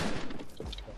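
Short bursts of gunfire from the game Fortnite sound as rough, clustered shots over about a second. They are moderately loud and heard with no talking.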